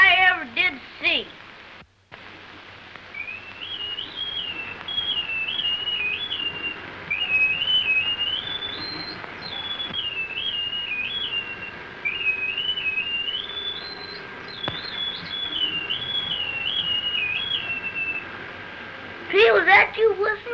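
A person whistles in an old Little Rascals comedy film: a wavering, sustained tune lasts about fifteen seconds, with brief voices or noise at the start and end.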